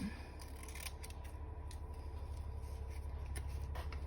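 Scissors snip through paper in short, quick cuts over a low steady hum, close by, with no one talking.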